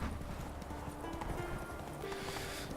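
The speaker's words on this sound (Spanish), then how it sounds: "Oh, caballo." Horse hooves clip-clop steadily in The Witcher 3 video game, in a snowy map setting, with a soft continuous game ambience underneath; no clear neigh stands out.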